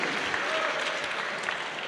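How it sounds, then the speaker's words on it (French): Audience applause for the winner at the Arena League final of a gaming convention, a steady dense wash of clapping from a crowd that holds evenly for the short stretch, with no talk over it. "Vous pouvez l'applaudir."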